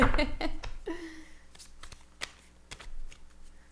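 Oversized tarot cards being shuffled by hand, with quick riffling flutters and soft slaps of the deck, close up, with a brief murmur of voice near the start.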